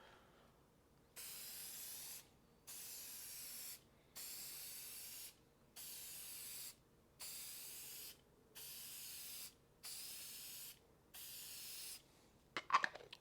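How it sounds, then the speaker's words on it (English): Shellac clear finish sprayed from an aerosol can in seven even hissing bursts of about a second each, separated by short pauses, close and faint, with a brief rattle at the end. "Again, I'll show you from this direction how I spray that."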